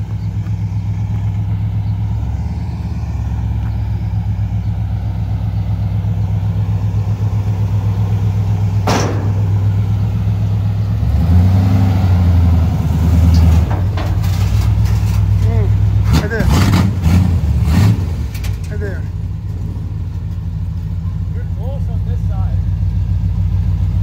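A car's engine runs at a low, steady rumble as it pulls out onto the street, rising briefly midway, with people talking over it throughout.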